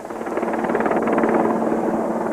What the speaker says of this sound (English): Helicopters have proved the only reliable means of transport.